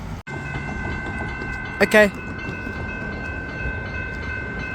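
A train passes the Normanby Avenue level crossing in Thornbury, Victoria, its steady rumble running under the steady ringing tones of the crossing bells, with a short loud horn-like blast near the middle and a brief spoken word at the start.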